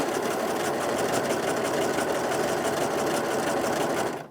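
A Brother 2104D overlocker stitches fabric, a fast continuous mechanical chatter at a steady pace, loud and close, stopping abruptly at the end.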